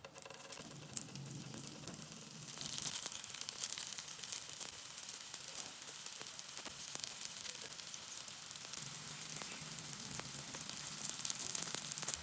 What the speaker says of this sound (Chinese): 平底锅烧干水之后，我们打少许的食用油，然后用刷子给它铺均匀，然后均匀的摆放在电饼铛里